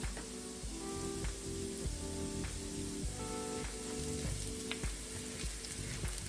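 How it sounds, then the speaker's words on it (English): Shrimp and broccoli sauté with red pepper flakes in a hot pan, giving a constant close crackling sizzle with occasional spatula strokes, and no one talking. "And you're gonna let that saute for about a minute."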